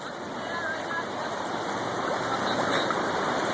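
Floodwater rushes through a normally small creek in Pennsboro, West Virginia, a loud, steady broadband roar that continues without a break.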